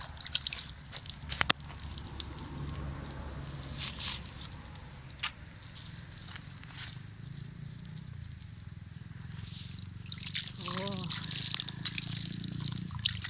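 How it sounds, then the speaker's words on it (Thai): Roots of phak sap (a vegetable) soaked and washed in water by hand, with soft trickling, dribbling and splashing throughout and someone talking over it, the water sounds growing louder toward the end. "เราก็จัดการเอามาแช่น้ำแบบนี้"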